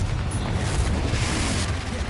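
Confringo blasting spell exploding in Hogwarts Legacy, a dense, roaring burst of noise with deep rumbling low end sustained through the whole short stretch, loud and close.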